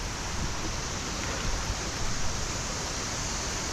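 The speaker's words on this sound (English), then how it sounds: "Just rocks and rapids." River rapids rush over rocks at Rock Island State Park in Tennessee, a steady, dense roar of flowing water that never lets up, with no voices.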